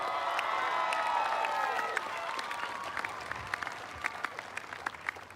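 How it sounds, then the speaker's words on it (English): Dense crowd applause for the home rugby team at the 2012 Lochore Cup Final, loud and sustained at first, then thinning into scattered individual claps and crowd murmur. "a massive round of applause for your home team"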